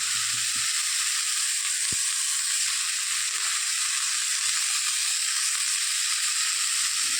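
Food fries in a pan, seasoned with salt and turmeric, producing a loud, continuous close-up sizzle with one sharp utensil tap early on.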